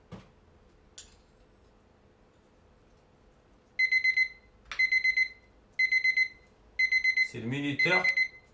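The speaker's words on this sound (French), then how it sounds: "C'est le minuteur qui sonne." A kitchen timer rings in four loud, evenly spaced bursts of rapid electronic beeping while a tuna tartare is being made, with a voice speaking over the last burst and faint kitchen noise underneath.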